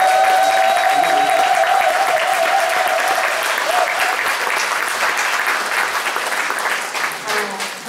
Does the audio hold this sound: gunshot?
no